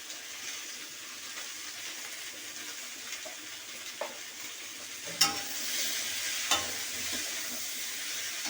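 Ginger paste and vegetables stirred in a pan give a soft, steady sizzle, with a couple of sharp clinks of the utensil against the pan partway through.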